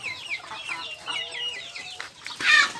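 Hungry Rhode Island chickens cluck and chatter in a farm flock, a busy overlapping run of close, moderately loud calls with a sharper squawk near the end.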